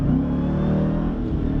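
A 2018 Jeep Grand Cherokee Trackhawk engine revving close by, a deep loud growl holding steady for a brief burst.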